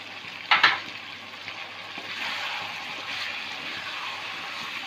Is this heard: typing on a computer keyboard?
no